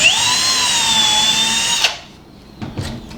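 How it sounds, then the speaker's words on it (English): A power drill runs steadily for nearly two seconds while pre-drilling holes for a wooden trellis, then stops, followed by a couple of faint knocks and handling sounds. "you can continue with the pre-drill on the other ones"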